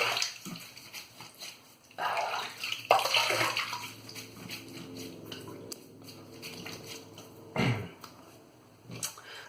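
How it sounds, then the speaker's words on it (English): Water runs and splashes at a sink as a face is wetted before a shave, with irregular close splashes and dripping that swell and fade over several seconds. "let me wet my face and get this started"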